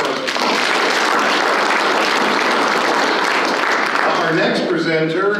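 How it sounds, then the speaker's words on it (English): Loud, dense audience applause fills a student recognition ceremony for history department award recipients, sustained for several seconds before tapering as a voice begins speaking near the end. "Big round of applause."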